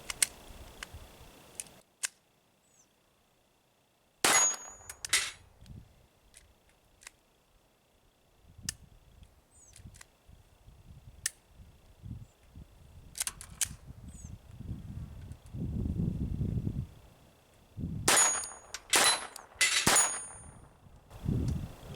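A .22 LR pistol, a Glock 44, fires several rounds: sharp, loud cracks come in irregular clusters with long quiet gaps and faint handling clicks between them.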